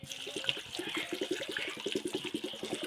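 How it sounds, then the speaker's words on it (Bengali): Running tap water splashes over fresh green chillies being washed by hand, a steady close stream with rhythmic splashing and rinsing throughout, no talking. "কাঁচা লঙ্কাটা প্রথমে ভালো করে ধুয়ে নেবো জল দিয়ে।"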